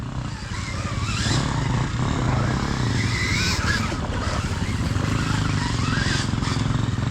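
An enduro motorcycle is ridden hard, its engine screaming and revving continuously at a moderate distance with rising and falling pitch, with little else audible.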